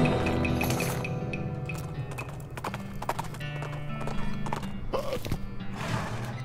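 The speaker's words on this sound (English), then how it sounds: "What is with this horse?" Hooves clop steadily with a horse whinnying over them in the video game West of Loathing, a busy, continuous stream of hoofbeats with bright jingling under it.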